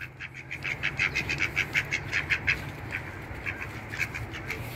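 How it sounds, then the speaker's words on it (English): A duck quacks in a rapid, rhythmic series of nasal calls, close and fairly loud, about a dozen quacks in quick succession over a faint background hiss. "ducks are cute, but they're very sloppy"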